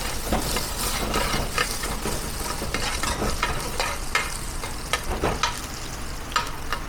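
Garlic and ginger sizzle steadily in hot oil in a pan for a herbal tikka masala, a loud, continuous fry with frequent scraping stirs and no voices.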